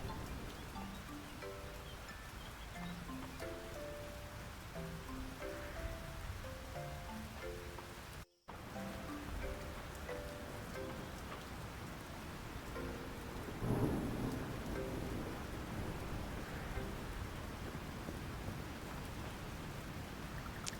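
A rainstorm in the farming game Fields of Mistria: continuous rain hiss with rumbling thunder, under soft melodic game music, with a brief dropout and a louder rumble partway through.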